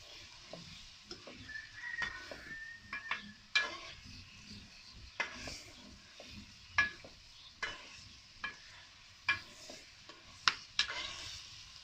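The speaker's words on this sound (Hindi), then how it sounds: "हमारी चिकन बहुत ही मज़े की फ्राई हो रही है। आप देख सकते हैं आग अपने फुल मूड में है।" Chicken fries over a high flame for chicken karahi, a quiet steady sizzle broken by sharp scraping knocks of a spatula against the pan at irregular intervals.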